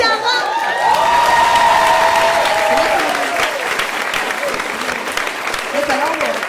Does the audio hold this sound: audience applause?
yes